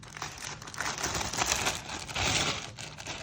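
A large plastic bag, the kind sold at hardware stores, is pulled open for soft rock sample preparation, giving close, continuous crinkling and crackling rustles over about three seconds.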